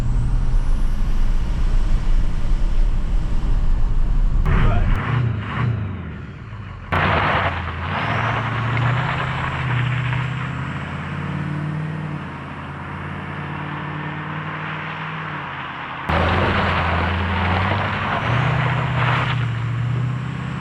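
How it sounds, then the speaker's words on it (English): A Ford F-350 Powerstroke diesel truck engine with turbo rumbles loud and near, idling and revving in surges with low droning tones, a faint turbo whistle and sharp breaks between runs. "The only difference, really, is that you can hear the turbo a little bit."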